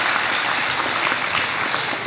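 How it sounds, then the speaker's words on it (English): A school assembly audience gives a jazz band a round of applause, dense and steady clapping filling the hall. "Give them a round of applause."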